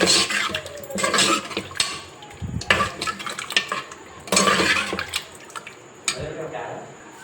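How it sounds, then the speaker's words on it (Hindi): Meat and spices stirred in a cooking pot with a little oil and water, a spoon scraping and clinking against the metal in bursts while a voice talks over it. "अब सबको अच्छे से मिक्स कर लेंगे।"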